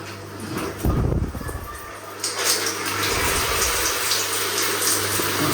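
Water sprays from a home shower panel with somewhat weak pressure, a close, steady hiss that rises and stays loud after a brief splashing start, with no one talking.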